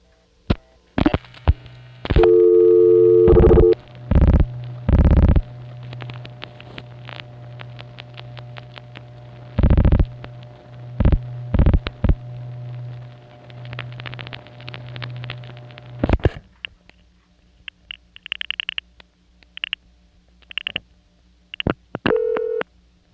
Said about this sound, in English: You might notice the supervision handshake right before VZ starts dialing.